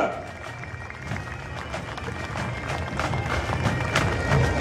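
A crowd at the Fête des Jonquilles in Gérardmer applauds a prize-winning bagad from Strasbourg, dense steady clapping and cheering that builds slightly over a few seconds, with crowd voices mixed in.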